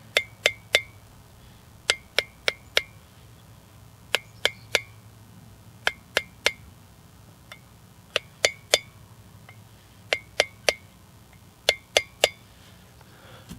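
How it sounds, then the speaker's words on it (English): A small hammer tapping around the edges of a wheel bearing seal on a 2WD Dodge Ram hub. Sharp metallic clinks come close in quick groups of two to four, separated by short pauses, over quiet background hum. "and your little hammer again, and you take it on the corners, right on the edges of it, give it a little tap"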